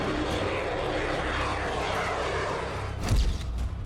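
An F-35 stealth fighter jet roars overhead as a broad, sustained engine rush, swelling louder near the end.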